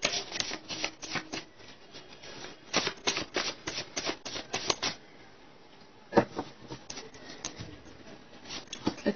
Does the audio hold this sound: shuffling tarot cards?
yes